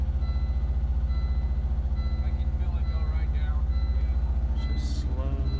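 A 1998 Volvo V70 engine idles while warming up, a steady, pulsing low rumble heard from close by, continuous throughout, with someone talking over it.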